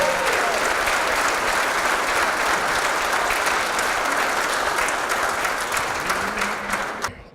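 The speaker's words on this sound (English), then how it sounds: "Give them a round of applause" Audience at a Missouri Western State University Griffin Athletics Hall of Fame ceremony applauds its honorees with loud, dense, sustained clapping that holds steady for about seven seconds, then cuts off abruptly at the end.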